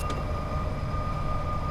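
A Class 87 electric train climbs a gradient in Train Sim World 6, its steady low rumble and broadband running noise carrying a thin sustained electrical whine throughout, loud and continuous with no voices.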